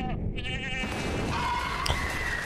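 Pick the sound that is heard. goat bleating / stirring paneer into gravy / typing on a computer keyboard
goat bleating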